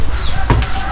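Chicken clucking at a family home in Kathmandu, a brief close cluck over steady background noise.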